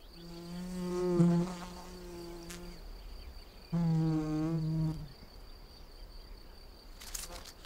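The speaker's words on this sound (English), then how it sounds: "She now flies to and fro, depositing pollen into the belly of the nest." A wild mason bee buzzes in flight while ferrying pollen to its nest, making two close, steady droning bursts separated by a quieter pause.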